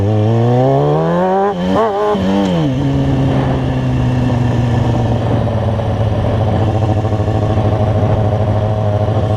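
A street motorcycle climbing toward Lily Lake, its engine loud and close, revving up and down through a few quick gear changes before settling into a steady cruising drone.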